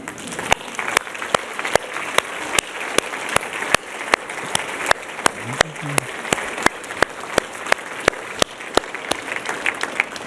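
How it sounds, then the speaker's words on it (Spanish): A lone pair of hands claps a steady, evenly spaced beat in a church service, sharp and distinct over a faint murmur, without the dense roar of a full congregation. "Y vamos a darle un aplauso al Señor."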